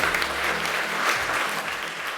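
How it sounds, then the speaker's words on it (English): A conference audience applauds steadily, dense even clapping filling the room from start to finish with no voices over it. "Can I ask you to join us in a round of applause"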